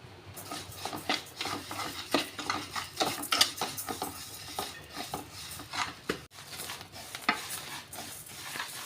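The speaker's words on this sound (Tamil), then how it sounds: "அரிசியை நல்லா வறுத்து எடுத்துக்கலாம்" Raw rice dry-roasted and stirred in a frying pan for porivilangai urundai, a close, uneven sequence of scraping and rattling strokes with a light sizzle underneath, moderately quiet.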